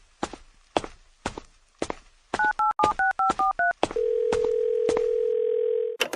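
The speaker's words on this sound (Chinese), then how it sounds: "稍等，我这就给你拨通他们的电话" Several footsteps, then a quick run of about eight telephone keypad tones as a number is dialed, followed by a long, steady ringing tone.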